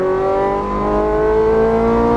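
A Ferrari 430 Scuderia engine accelerates on a track in Las Vegas, a loud close-up rising tonal howl with steadily climbing pitch held in one gear, no speech.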